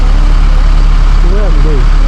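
A city bus idles at a Moscow stop with a loud, steady low engine drone, while nearby voices talk over it.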